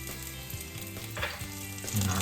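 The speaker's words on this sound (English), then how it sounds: "put a little olive oil into our pan. Then we're going to add our garlic" Garlic sizzles in olive oil in a pan over medium-high heat, a close, bright crackling hiss that swells midway, with a faint steady hum underneath.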